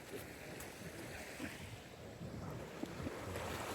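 Atlantic Ocean waves wash along the foggy Bay of Fundy shoreline at Saint John, a continuous soft roar of surf mixed with wind buffeting the microphone, faint and steady with small splashes.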